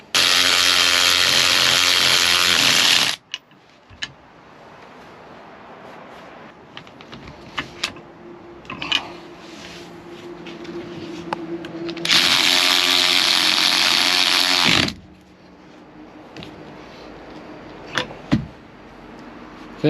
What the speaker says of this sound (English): we're just gonna tighten up the drop links so we can fit it as all one unit